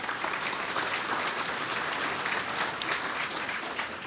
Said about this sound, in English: Good round of applause for RFD TV and AP Productions.